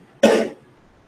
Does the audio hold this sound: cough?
yes